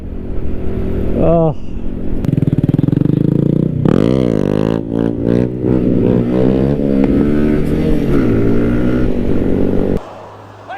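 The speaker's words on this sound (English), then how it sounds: "There's a funeral going on and you're doing a wheelie." A motorcycle doing a wheelie beside a funeral, its engine revving and rising in pitch close by while people talk and exclaim over it, then cutting off abruptly near the end.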